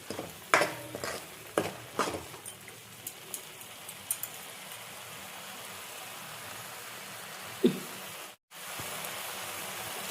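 Masala spluttering in hot oil for a rohu fish curry gives a soft, steady sizzling hiss, broken by scattered sharp clinks of stirring and one brief pause near the end.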